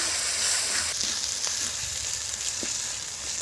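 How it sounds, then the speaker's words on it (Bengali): Ginger garlic paste added to onions sizzles steadily in a pan for an egg korma, with a continuous bright frying hiss and a few soft scrapes of stirring, close and fairly loud, no voices. "আদা রসুনটা দিয়ে 1 মিনিট নেড়ে নিলাম"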